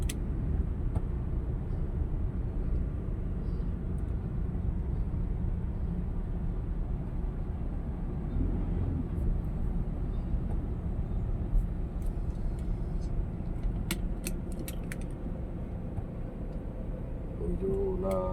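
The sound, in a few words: road traffic on Pasig Boulevard flyover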